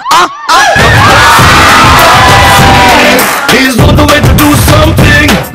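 A studio audience cheers loudly and continuously, shrill whistles and yells rising over a dense crowd roar, cut by a brief gap and ending in louder bursts.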